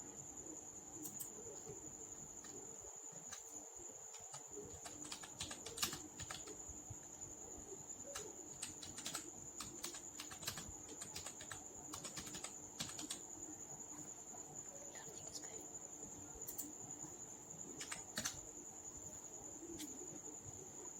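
A computer keyboard being typed on to enter watermark text in Microsoft Word 2010, faint scattered key clicks in irregular bursts over a steady high whine.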